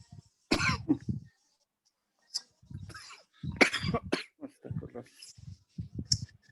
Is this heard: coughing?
yes